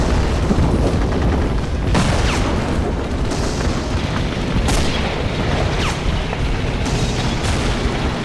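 Tank gun fire in a World War II tank video game with a T-34 medium tank and a tank destroyer: dense, continuous booming battle noise with heavy rumble and several sharper blasts throughout.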